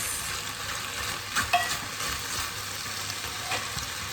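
Sweet and sour meatballs with pineapple chunks cook in a pan, giving a steady close sizzle with a few soft stirring scrapes and light clicks, and no talking.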